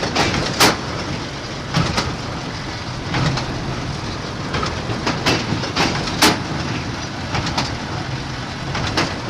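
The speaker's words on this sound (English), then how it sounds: "when that chamber gets full, it trips an arm and causes that stuffer to push the material up into the bale chamber" LB333 baler with its stuffer and plunger running, a steady loud mechanical clatter broken by repeated sharp knocks and clanks at an uneven rhythm, close by with no talk.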